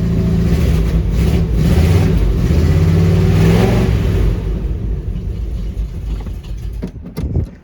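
A 1979 Chevrolet Suburban with no working choke revs hard on a cold start, its loud rumbling engine surging steadily for several seconds before easing back toward a lower, rougher run.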